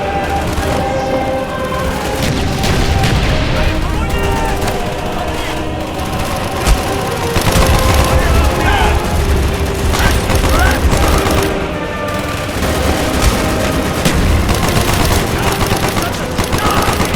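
Mortar and gunfire in the Call of Duty Black Ops campaign mission Project Nova, with dense, continuous automatic fire, repeated booming blasts and intermittent shouting voices throughout a loud battle.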